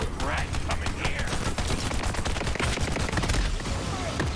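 Gunfire in Borderlands 3, dense rapid shots rattling continuously at close range over a noisy game mix, with a voice speaking faintly underneath.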